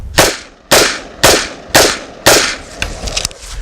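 An AR-15 rifle fires five evenly spaced rounds after being caked in mud during a mud test, each shot a loud, sharp crack with a short decaying tail, followed by faint clatter.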